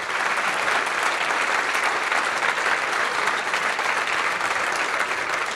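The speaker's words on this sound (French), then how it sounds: "je voudrais bien que vous applaudissiez tous les gens qui ont parlé pendant cette conf" A large conference audience applauds the speakers in a dense, sustained round of clapping, loud and even from start to finish.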